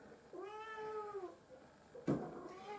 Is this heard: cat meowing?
yes